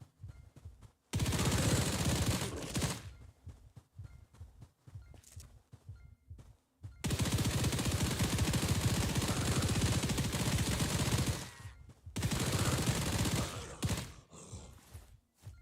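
Rapid bursts of video game gunfire in a Hytale session, loud dense volleys in three long stretches separated by quieter gaps, with no talking.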